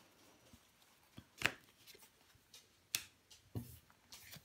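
A tarot card laid down onto another card gives a few soft, quiet papery slaps and brushes, spaced apart in an otherwise hushed room.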